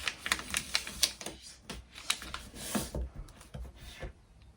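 Origami paper is folded, creased and pressed in a quick run of crisp, close taps and rustles, with a steady rhythm and no talk.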